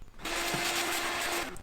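Power drill boring a bolt hole through an aluminium gate, a single short, loud, close whine that starts abruptly and runs steadily for just over a second.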